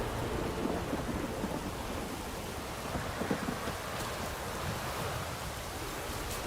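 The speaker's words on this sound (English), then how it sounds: "A storm, damn it." A thunderstorm in The Witcher 3 video game: steady heavy rain hiss with low rumbling thunder rolling underneath, a dense, continuous wash of weather sound with no talking.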